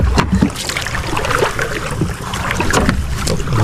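Wooden fishing boat being lowered into the water outdoors, with a continuous rumble of water and wind noise, low thumps and scattered splashes and knocks, fairly loud and close with no talk.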